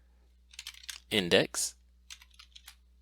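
Soft, quick key clicks on a computer keyboard come close by in short runs before and after a brief spoken phrase.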